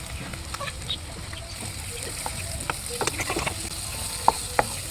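Sliced radish with fresh-ground turmeric and sambar masala frying in a pan, with soft sizzling and a few scraping stirs at moderate level, a couple of sharper clinks near the end.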